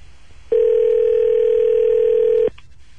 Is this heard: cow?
no